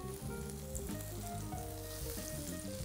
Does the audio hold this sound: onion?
yes